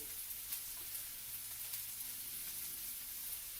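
Ribeye steak with garlic, butter and rosemary sizzles steadily in a skillet, a constant close crackling hiss with no talking over it.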